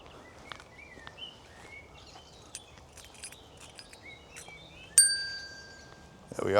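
A small bell in a graveyard gives one clear ding that rings on with a fading tone, after soft scattered chirps and faint outdoor ambience, followed by a brief rustle.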